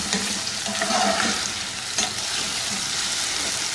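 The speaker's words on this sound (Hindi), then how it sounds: "चिकन ऐड करेंगे और इस चिकन को अच्छी तरह से कुक कर लेंगे।" Chicken pieces frying in a pan for a chicken spaghetti dish, giving a steady close sizzle with occasional stirring scrapes and no voices.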